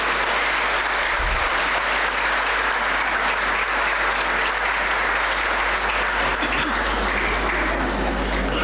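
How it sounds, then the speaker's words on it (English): An audience at a college annual lecture rising for a standing ovation, with loud, dense, sustained applause that fills the hall evenly from start to finish. "give a standing ovation and a thunderous applause to our Chief Speaker"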